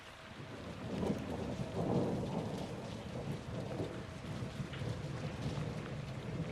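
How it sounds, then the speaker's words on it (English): Heavy rain and rolling thunder in the Call of Duty Modern Warfare II campaign, a steady wash of downpour with low rumbling swells of thunder building early and fading, no voices. "It's raining fucking hard."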